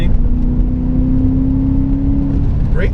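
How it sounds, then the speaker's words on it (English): A modified BMW E34 540i V8 with a straight-pipe exhaust holds a loud, steady, throaty drone close to the listener, climbing slightly in pitch near the end with no talking. "you hear straight pipe and you think it's going to be super loud, but it's just got a nice kind of, yeah, nice and throaty"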